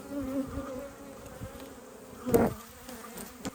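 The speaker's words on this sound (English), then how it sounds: "Look at these bees. Look at them." Honeybees on a hive frame hum in a steady, droning buzz close by, with a brief louder burst of buzzing midway through.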